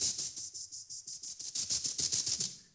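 Vocoder in Ableton Live with the unvoiced noise oscillator raised, producing a rapid pulsing series of bright hissy bursts over a low muffled resynthesized tone, close and without speech.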